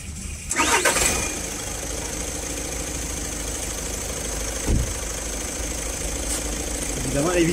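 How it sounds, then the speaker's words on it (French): An Audi A1 Sportback's engine cranks and catches, then settles into a steady close-up idle with a brief rise in revs near the end. "je fais ça moteur tournant"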